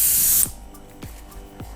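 An airbrush sprays light rust paint in a close, loud hiss lasting under half a second, then stops, leaving faint clicks and handling noises.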